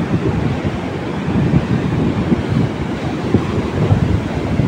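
Ocean waves wash steadily onto Goa beach, a continuous loud surf roar with gusty wind buffeting the microphone and no voices.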